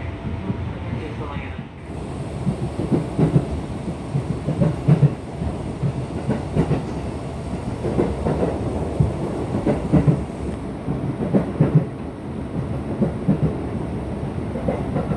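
Interior of a KRL Commuter Line electric train running from Rangkasbitung to Tanah Abang, with a steady low rumble and rhythmic clatter of the carriage, faint talking voices mixed into the continuous ride noise.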